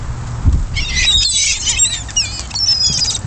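Seagulls squawk loudly and repeatedly at close range in a Kmart parking lot as they are fed French fries, with wings flapping among overlapping high calls.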